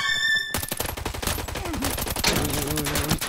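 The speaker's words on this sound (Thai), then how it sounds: "ทำไมแบบยิงโหดจังเลยวะ" Rapid automatic gunfire in the video game Arena Breakout rattles in dense bursts of sharp, loud shots, with overlapping weapons firing almost continuously and brief tonal game sounds underneath.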